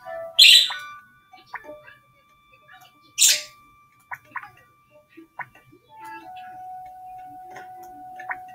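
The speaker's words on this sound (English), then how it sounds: "My bird's not chirping anymore." A pet bird in the Animal Jam video game gives two brief, bright chirps separated by a pause, amid sparse soft clicks and ticks from the game.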